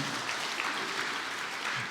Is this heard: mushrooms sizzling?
no